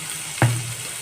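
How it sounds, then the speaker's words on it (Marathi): Food frying in a pan for a sprouted moth bean usal, a sudden loud sizzle bursting once near the start and then settling into a softer fading hiss, with no talking. "आणि गुलाबी रंग होईपर्यंत फ्राय करून घेऊया"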